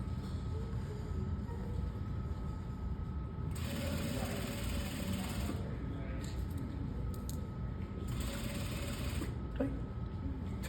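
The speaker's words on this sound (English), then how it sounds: "I'm gonna stitch a portion of this on the back at 1 inch" A sewing machine stitches thick material at a class, a steady close mechanical whir running throughout with brief changes in pitch and tone.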